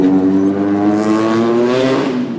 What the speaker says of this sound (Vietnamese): chiều thứ bảy ông nào chạy xe mô tô nghe nhức đầu ghê